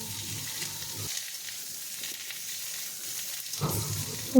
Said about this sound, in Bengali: এবার আমি আলু আর পটলটা একসাথে ভেজে নিচ্ছি।